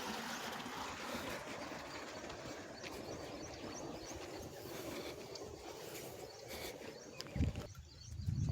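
Irrigation water pours steadily from a motor-driven pipe into a sesame field, a loud, close, continuous rushing with no talk; a brief low thump sounds near the end.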